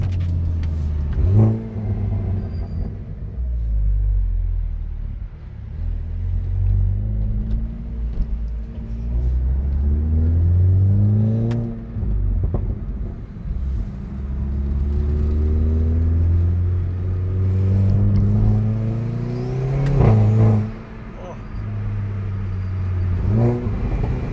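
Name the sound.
Stage 2+ Hyundai i30N exhaust revving while accelerating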